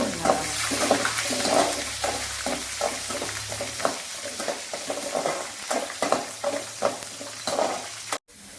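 Garlic and curry leaves sautéing in a pan for brinjal kara kuzhambu, steady sizzling with a rhythmic series of stirring scrapes, close and fairly quiet, ending abruptly.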